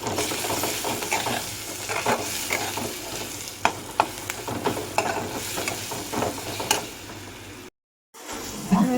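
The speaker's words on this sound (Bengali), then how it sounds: "লবণ দিলে পেঁয়াজটা তাড়াতাড়ি একটু নরম হয়ে যায়, তাড়াতাড়ি ভাজা হয়ে যায়।" Onion fries with salt, turmeric and dried chili in a pan, a constant sizzle broken by the scrape and clack of stirring, with a brief gap of silence near the end.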